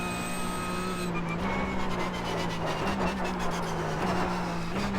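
Porsche 911 GT3 Cup race car engine in an iRacing lap, a loud steady high-pitched whine with a shift of pitch early on, then droning on at a constant pitch with small wavers.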